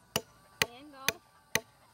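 A hammer striking a wooden peg outdoors: four sharp, evenly spaced blows about half a second apart, with a brief voice heard between two of the strikes.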